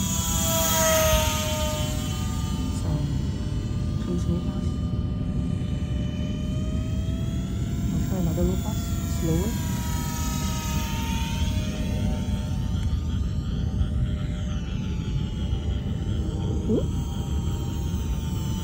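Eachine mini P-47 RC warbird model plane in flight, its small electric motor giving a steady whine that rises and falls as it passes, continuous and fairly close throughout.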